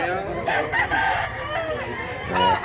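A young rooster, a stag at a market, crows and clucks close by in short, strained calls, with voices of people talking mixed in around it.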